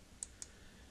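Two quick, faint computer mouse clicks while sketching constraints in CATIA V5 CAD software, close together over a soft steady background hiss.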